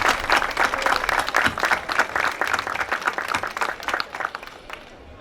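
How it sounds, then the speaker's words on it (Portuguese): Sustained applause from an audience at a book launch during a summer festival in Calheta, São Jorge, steady dense clapping at moderate distance filling the room for several seconds. "eu peço-lhe uma salva de palmas"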